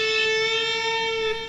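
A single guitar note hammered on too hard, ringing steadily and clearly with bright overtones and a slight upward pitch drift as it sustains.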